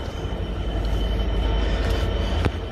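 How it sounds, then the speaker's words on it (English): Busy station ambience at Perth train station in Scotland, a steady loud low rumble of idling trains and platform hum with a sharp metallic clank near the end, no talk. "So I'm heading to the back gate of Perth train station."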